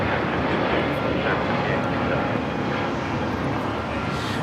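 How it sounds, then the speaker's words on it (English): Frontier Airlines Airbus A321neo taking off at LAX, a continuous broadband jet engine roar heard from a distance with soft voices underneath. "4964 taking off to Dallas Fort Worth on the A321neo"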